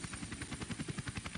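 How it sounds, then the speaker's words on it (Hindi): A helicopter comes down to land on a dormant volcano in a comic-based audio drama, its rotor thumping in a steady fast rhythm with a loud, droning engine whine. "नागराज ने हेलीकॉप्टर सुप्त ज्वालामुखी पर उतारा।"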